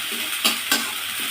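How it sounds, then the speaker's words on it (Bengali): Masala spices sautéing in a pan for tomato curry, a close steady sizzle broken by two quick scraping stir strokes. "মশলাটা সুন্দর করে কষানো হয়।"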